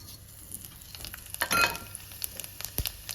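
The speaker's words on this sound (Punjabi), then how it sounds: "ਜੀਰਾ ਪਾ ਦਾਂਗੇ" Cumin seeds dropped into hot oil for a no-onion, no-garlic potato-tomato curry, giving a brief burst of crackling sizzle with scattered pops and spoon clinks, close and fairly quiet.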